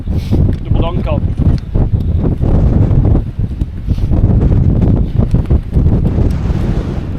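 Strong gusting wind buffets the microphone at an exposed wild camping spot, a loud, continuous roar with someone talking over it.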